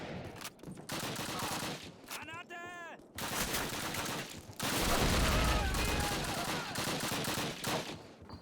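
DayZ gunfire crackles in bursts, and a grenade blast lands as a heavy low boom in the middle. Shots and rumble fill the scene, and a voice talks in between.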